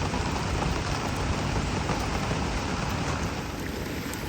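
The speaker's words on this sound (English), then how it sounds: "it's still 20 odd degrees even in the pouring rain" Heavy tropical rain pours down on a fishing lake in Thailand, a dense, even hiss of drops on water and surfaces, steady and moderately loud for the whole stretch with no voices.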